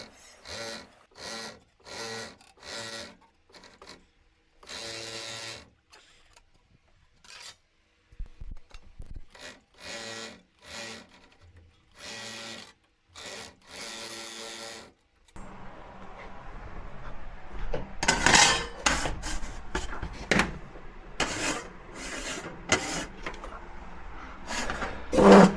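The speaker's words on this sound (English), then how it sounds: "we're going to crimp again. The setup is on 10 millimeter crimp edge." A sheet metal edge for a rain cap is crimped with a 10 millimeter crimp setting: short rhythmic bursts of machine noise at first, then a continuous, louder grinding, rasping run near the end.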